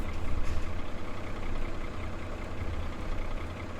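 A tractor in Farming Simulator 17 ticking over, a low, throbbing engine idle with a regular pulsing rumble, steady and close throughout, slightly louder at the start, with no voices.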